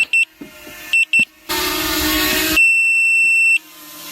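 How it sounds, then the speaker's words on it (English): A Potensic Atom SE drone's handheld controller beeps in short electronic bursts, followed by a burst of rushing noise and then a single long, steady high beep. "sorry about the beeping"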